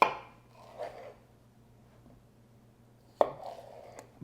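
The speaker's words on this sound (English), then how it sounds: "cut this in half, cut the cucumber in half, and then cut that half in half" A knife slices an English cucumber in half on a cutting board. There are two separate close cuts, each a sharp crunchy chop followed by a brief scrape, with a quiet pause between them and no speech.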